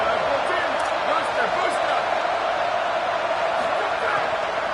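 A large stadium crowd at a Texas Tech football game roars steadily on third down, a dense wall of cheering that holds at the same level throughout, without pauses.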